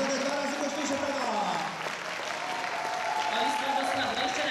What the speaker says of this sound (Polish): Brawa dla pierwszych rzędów za piękne i głośne klaskanie.